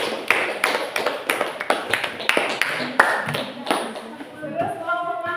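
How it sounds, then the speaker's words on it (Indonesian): Scattered claps from a classroom group, sparse and uneven, with a few voices breaking in toward the end. "Tepuk tangan untuk kelompok."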